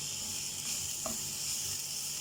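Onion and carrot stir-fried in a pan for a vegetable thoran give a steady, close oil sizzle, with a single soft stirring scrape partway through.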